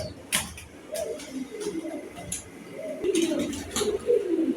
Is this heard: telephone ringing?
no